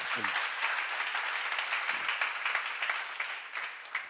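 A church seminar audience breaks into steady, dense applause that holds for about four seconds at moderate volume, with no speech over it.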